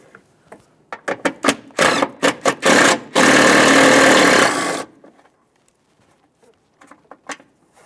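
A 10mm mounting nut comes off its stud in the engine bay of a 2002-2009 Chevrolet Trailblazer: a run of short, sharp mechanical bursts, then a loud sustained two-second buzzing whir, followed by near silence with faint clicks.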